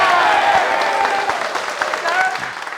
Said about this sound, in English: All right, let's clap it up.